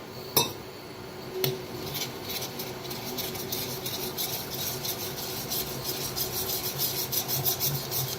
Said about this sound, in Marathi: थोडं थोडं पाणी ओतून बेसनला मिक्स करून घेऊया।